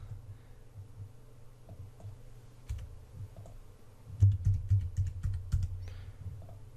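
Quick bursts of computer keyboard typing and clicking while signing in to a website, soft and close over a low steady hum, with a denser cluster of keystrokes near the end.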